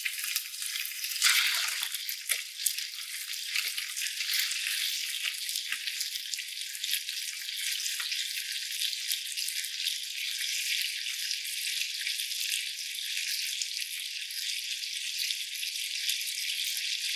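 Pork and sweet cherry peppers sizzle in a pan: a continuous bright, hissing fry at a steady moderate level, with a brief louder burst of spatter near the start and no voices.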